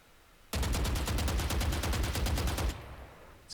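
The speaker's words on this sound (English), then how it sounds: "So we're going to do about 25 rounds standing up unscoped." A video game rifle fires a rapid automatic burst of about fifteen evenly spaced loud shots over two seconds, then stops abruptly.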